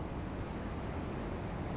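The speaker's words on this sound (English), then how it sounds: "just checking out the waves" Ocean surf at Pacifica near San Francisco gives a faint, constant wash of broadband noise with no distinct breaks, mixed with some wind on the microphone.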